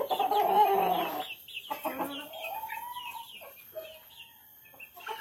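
Chickens and roosters kept on a small farm cluck and squawk nearby, a loud burst of calls at first followed by scattered, softer clucks and chatter across several seconds, with no talking.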